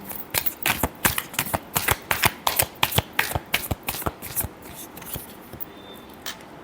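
A tarot deck is shuffled by hand up close, with a long run of crisp, rhythmic card snaps and riffles that gradually soften toward the end. No one speaks.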